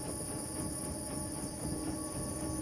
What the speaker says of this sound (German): Hinten fährt der Zug.